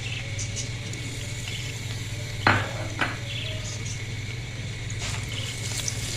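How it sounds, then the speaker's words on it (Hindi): Crushed grated garlic fries in very hot oil over a low flame, a soft steady sizzle under a constant hum, broken by a sharp metallic clink of a utensil on the pan and a lighter tap after. "लहसुन थोड़ा सा फ्राई हो गया, इतना इसको हमने फ्राई करना है कि इसका जो कच्चापन है ये ख़त्म हो जाए।"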